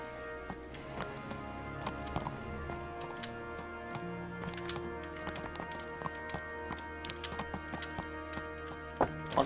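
Hooves of Divish's horse clop steadily in the medieval video game Kingdom Come: Deliverance, a run of light, fairly close knocks woven through a continuous bed of sustained tonal music, with no talking.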